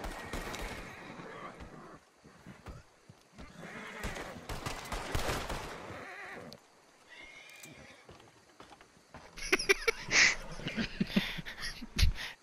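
Horses in the Red Dead Redemption 2 video game neigh and whinny repeatedly among hoof clip-clops, with a burst of gunfire near the end.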